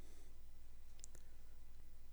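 A pair of soft, close mouse clicks on a computer running MikroC programming software, heard over a steady low electrical hum with no talking.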